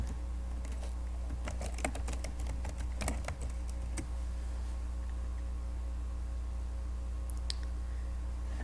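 A password is typed on a computer keyboard, a quick burst of close, crisp key clicks over a low electrical hum, then a pause before a couple of final taps.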